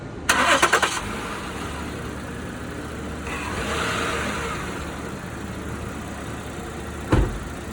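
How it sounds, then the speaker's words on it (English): A 2008 Lincoln MKX with a new battery cranks briefly and fires at once, then settles into a steady idle with a mild swell in engine noise, and a sharp click comes near the end. "As you can see, cranked right over, as expected with the new battery"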